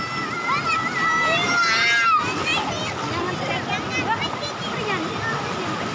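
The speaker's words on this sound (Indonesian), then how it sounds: "Di sini sebenarnya kebanyakannya tuh batu karang dan ombaknya lumayan besar sih sebenarnya ya" Fairly large ocean waves wash over coral rock at Cipunaga beach, a steady splashing and sloshing wash under chattering voices, including a child's.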